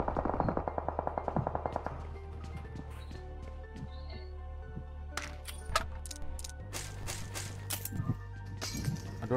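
Bursts of gunfire from a distant shooter in a battle royale shooter game, sharp cracks in quick clusters, some far and muffled, others louder, over a low steady hum with brief chatter.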